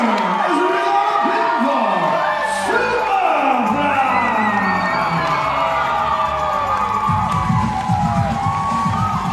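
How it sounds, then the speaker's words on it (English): A wrestling crowd roars and cheers continuously for the masked fan-favourite Superfly after his win, shouts and whoops rising over a dense, loud wall of voices. "Got this crowd going crazy behind him."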